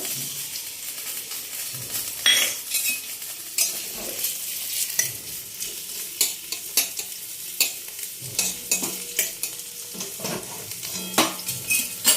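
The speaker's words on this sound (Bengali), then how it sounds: "কড়ার মধ্যে আমি অল্প একটু তেল দেবো, রসুন আর পেঁয়াজটা একটু ভেজে নেব।" Garlic and onion fry in a little oil in a wok, with a soft steady sizzle broken by frequent scraping stirs and light clinks of a utensil against the pan, close and fairly quiet.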